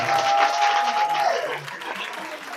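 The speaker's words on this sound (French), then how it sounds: "Mais vous êtes en train d'applaudir là." Dense applause from a crowd at a political support rally fills the room, loud at first and gradually thinning, with a voice briefly audible underneath.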